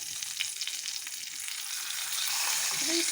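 Flounder pieces in batter fry in a pan with a steady, close, bright sizzle that grows slightly denser toward the end.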